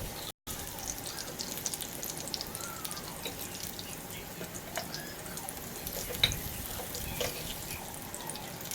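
Spicy banana slices fry in hot oil with a steady, dense crackle and sizzle, close and continuous, with a few sharper pops along the way.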